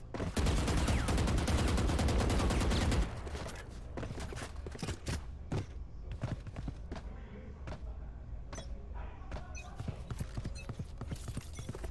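Gunfire in Valorant, with a dense, loud rattle of rapid shots at first, then scattered single and short-burst shots cracking sharply through the rest, under faint commentary.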